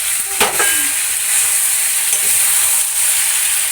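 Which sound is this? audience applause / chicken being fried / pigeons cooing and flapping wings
chicken being fried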